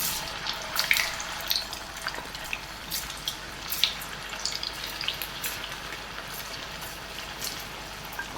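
Raw banana slices sizzle in hot oil, a close, hissing crackle with scattered pops and bubbling, steady and fairly quiet throughout with no voices.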